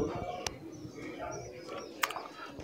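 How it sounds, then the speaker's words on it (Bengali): Doves feeding alongside pigeons on a rooftop give soft, low cooing calls under steady background noise, with a couple of brief sharper sounds. "দেখেন আমাদের সাথে ঘুঘু আসে প্রতিদিন, কবুতরের সাথে ঘুঘুগুলো খাবারগুলো ভাগ করে খায়।"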